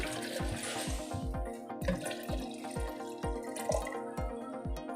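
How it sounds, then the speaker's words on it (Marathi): Water pours into a blender jar for raw mango juice with a bubbling, gurgling sound, accompanied by a rhythmic series of low glugs and drips, close and moderately loud. "यामध्ये आता आपल्याला घालायचं आहे दोन ग्लास पाणी"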